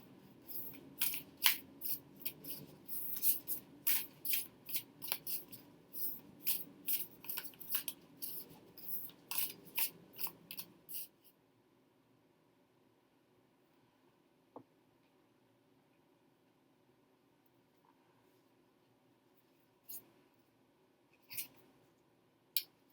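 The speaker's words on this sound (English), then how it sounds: "I basically did quite a bit of shuffling" An oracle card deck is shuffled close by in rapid, rhythmic papery riffles and slaps for about eleven seconds, then near silence broken by a few isolated card snaps.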